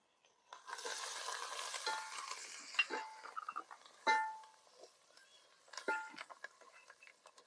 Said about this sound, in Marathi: तर मस्त असा हलवून घ्यायचा आता चांगला मसाला तळून द्यायचा